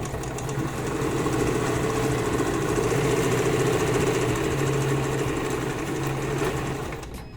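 A sewing machine stitches a flat-felled seam across two pieces of fabric, starting with a backstitch, a steady close mechanical whir and rapid needle chatter running continuously.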